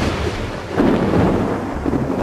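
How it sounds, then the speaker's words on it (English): A powerful thunderstorm over the Kuala Lumpur valley, with a deep rolling rumble of thunder swelling over steady heavy rain. "Powerful thunderstorms that pound the valley for months on end."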